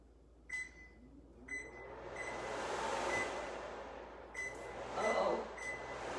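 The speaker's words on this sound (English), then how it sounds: "you're gonna stick it in the microwave for about 1 minute to 2 minutes" A microwave oven heating mozzarella and cream cheese gives off a low, steady hum and whir, with a few short clicks and beeps near the start and again toward the end.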